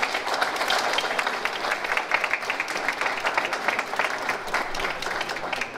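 An audience at an art circle exhibition event applauds continuously for several seconds, a full, even wash of clapping hands at moderate volume.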